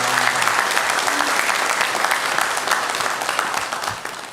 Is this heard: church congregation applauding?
yes